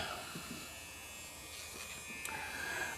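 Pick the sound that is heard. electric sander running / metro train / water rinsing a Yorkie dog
electric sander running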